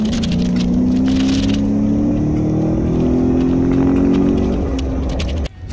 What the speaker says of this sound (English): What does the EcoBoost sound like?